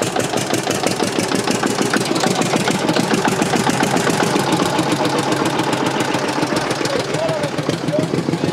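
A 1951 tractor engine running steadily at an outdoor springtime gathering, a loud, close, chugging rhythm that continues throughout, with a faint voice in the background near the end.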